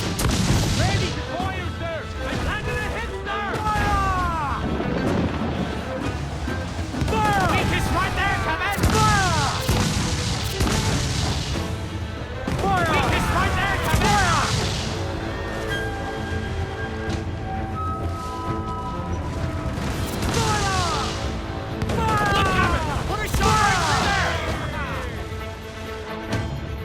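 Repeated ship cannon fire in the pirate game Assassin's Creed Black Flag, heavy booms and crashes coming in bursts, loud and close, while crew voices shout orders between and over the shots.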